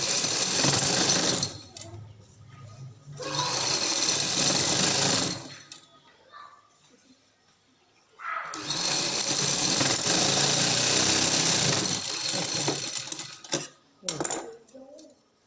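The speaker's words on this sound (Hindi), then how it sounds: "फोल्ड करके पीछे की तरफ स्टिचिंग करेंगे, ताकि जो रफ कपड़ा है वो आगे नहीं आए" A sewing machine stitches lace onto a sleeve in two long, loud bursts of rapid mechanical whirring, separated by quiet pauses with small clicks and handling sounds.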